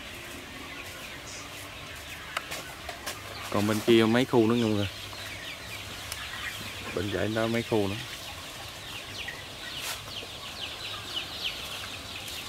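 Chickens cluck in short bursts at close range, two clear rounds of clucking, while a person talks intermittently over a quiet farmyard background.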